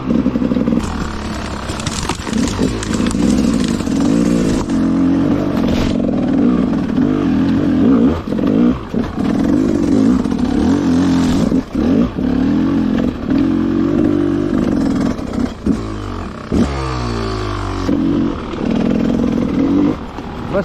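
An enduro motorcycle ridden off-road, its engine droning loud and close throughout, with revs rising and falling and bursts of clatter and wind.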